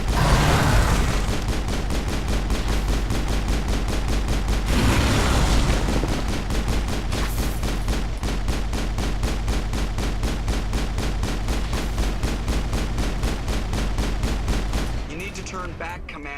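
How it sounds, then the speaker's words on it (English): Sustained gunfire in the Mass Effect video game: rapid, steady bursts of automatic weapon shots fill nearly the whole stretch at close range, with a brief lull before fading near the end. "I heard them shoot again, so they're now overheated probably"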